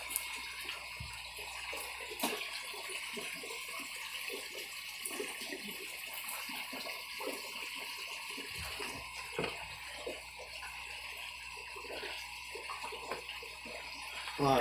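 Water running steadily as a tank fills in an aquaponics and hydroponics setup, a constant hissing rush with faint knocks and bumps, moderately quiet and alone.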